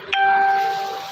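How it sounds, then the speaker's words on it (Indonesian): A notification bell strikes one bright ding, then rings on in a sustained, slowly fading metallic tone. It is clear and alone, with no voices. "jangan lupa aktifkan lonceng notifikasinya juga ya teman-teman"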